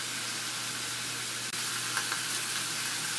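Bacon warming on a grill under a press gives off a steady, even sizzle, close and continuous, with a faint tick partway through and no voices.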